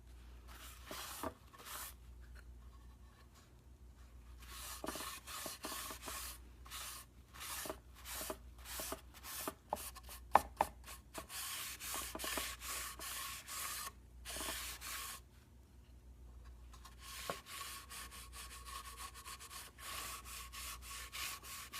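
Soft, intermittent rubbing strokes of a cloth working Ipswich pine stain into a wood-burned wooden sign, quiet and close, with short pauses between bursts.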